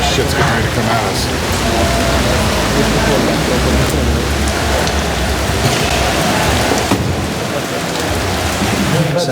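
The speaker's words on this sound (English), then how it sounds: "So like fucking rain." Heavy rain pours steadily during a thunderstorm, a dense continuous wash with low rolling thunder underneath and occasional sharper cracks.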